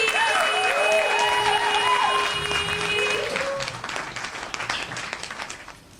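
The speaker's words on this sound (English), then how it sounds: "keep clapping all the way to the stage as we welcome Air" Loud audience applause and cheering at a live poetry showcase fills the room as a poet is welcomed to the stage, with a few voices calling out, fading gradually toward the end.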